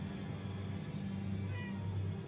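Cat meowing in the game Murdered: Soul Suspect, a couple of drawn-out meows over a steady low ambient rumble, fairly close and clear with no talk.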